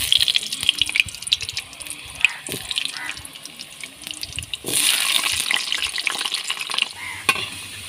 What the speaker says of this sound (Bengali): আমি এক এক করে ফুলকপি আর আলুটা ভেজে নেব।